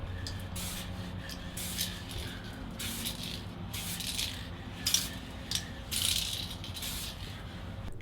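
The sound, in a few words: spraying Spray Max 2K clear coat aerosol on taillight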